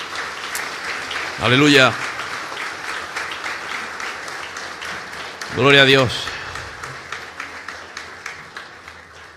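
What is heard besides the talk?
congregation applauding in church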